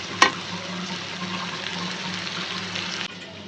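Water poured into a frying stem vegetable curry, a brief clatter followed by a steady, quiet bubbling hiss and simmer for a few seconds.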